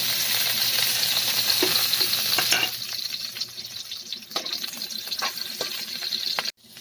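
Garlic hits hot oil and sizzles loudly at first, then crackles more quietly with scattered pops and stirring clatter before a sharp knock at the end.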